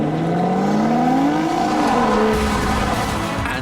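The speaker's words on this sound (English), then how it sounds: "And those exhaust valves still sound just as good." An Aston Martin with a 6-litre V12 revs close up, its exhaust note climbing steadily and then settling lower, loud and alone with no talk over it.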